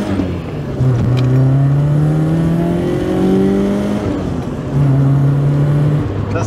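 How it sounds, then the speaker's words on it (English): A BMW E30 318iS four-cylinder engine revs while driving, climbing through the gears in two quick pulls separated by a brief lift, with a buzzy, rising engine note heard close up from inside the car. "It's a really quick revving little engine, eh? And it sounds good."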